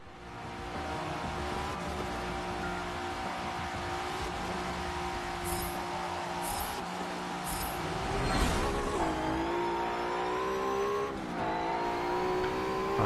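Race car from the Forza Motorsport 7 video game lapping the Long Beach street circuit, its engine droning steadily and rising into revs with repeated gear changes, clear and continuous throughout.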